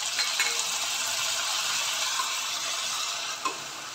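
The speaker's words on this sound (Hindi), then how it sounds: "और आधा चम्मच लाल मिर्च पाउडर डालेंगे। इसको मिला लेंगे अच्छी तरह से।" Spices with red chilli powder frying in a pan for a poha dish, a steady close hissing sizzle with occasional stirring scrapes and clicks, no talking.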